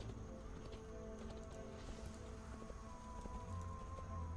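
Steady clip-clop of horse hooves from a rider's mount in World of Warcraft, a soft even trotting rhythm heard faintly under quiet ambient game sound.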